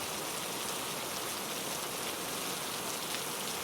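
Steady, dense rainfall at night, a continuous even hiss of drops on surfaces that stays constant throughout, close and fairly loud with no voices.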